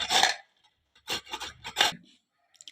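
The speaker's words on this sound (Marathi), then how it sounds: "आता आपण हे गाजर या किसणीने किसून घेऊया." Carrots rubbed against a hand grater, three distinct rasping bursts with pauses between strokes, close and fairly loud, with no talking.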